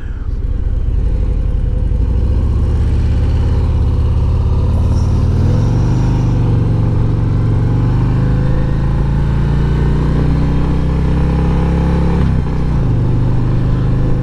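A 2023 Harley-Davidson 120th Anniversary CVO Road Glide motorcycle being ridden, its engine a loud, steady low rumble with smooth pitch rises as it accelerates and a brief dip near the end, wind noise throughout.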